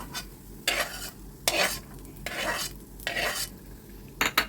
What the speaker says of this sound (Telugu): ఆ ధనియాలు కూడా బాగా వేగిపోవాలి.